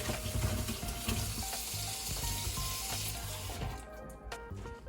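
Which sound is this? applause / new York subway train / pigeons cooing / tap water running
tap water running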